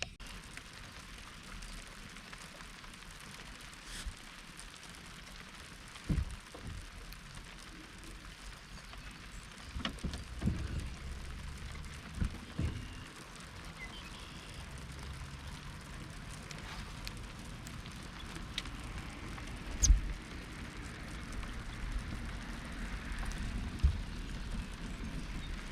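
Steady rain falls on an open lake during bass-fishing tournament practice at Watts Bar, a constant soft hiss with a few scattered knocks and bumps, and no voices.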